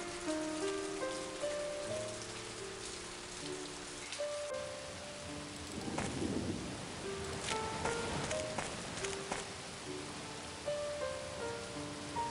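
Rain falling steadily over a stormy scene in the And Then There Were None game, a soft, even patter that runs throughout under sustained musical tones, with no clear thunder clap.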